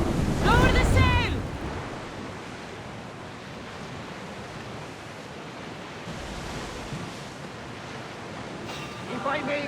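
A sailing ship moves over sea waves in the video game Assassin's Creed Odyssey, a steady rushing wash of water and wind that carries on throughout, with voices speaking briefly at the start and again near the end.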